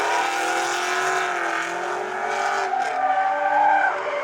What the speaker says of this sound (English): Progressed even more, was drifting more of it, starting to connect turns because no body roll.